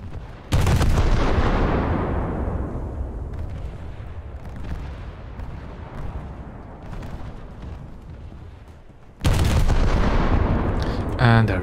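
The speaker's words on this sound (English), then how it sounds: "I haven't seen an Akizuki fire all this much this match, but now it's opening fire upon" Naval guns of an Akizuki destroyer firing in a naval combat video game: a heavy, booming salvo that rumbles and decays slowly over several seconds, followed by a second loud blast, close and powerful with no voices.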